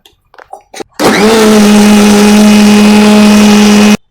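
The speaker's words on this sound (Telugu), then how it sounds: "ఇప్పుడైతే ఇది మనం మిక్సీ పెట్టేసాం" A mixer grinder blending dondakaya and carrot for rasam, a few soft clicks and knocks before the motor kicks in, then a loud, steady high-pitched whine for about three seconds that stops abruptly, close and alone.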